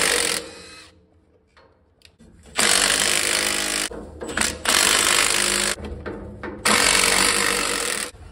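A power tool spins five 9/16 nuts off a trailer brake assembly, sounding in loud whirring, rattling bursts separated by short quiet gaps, up close.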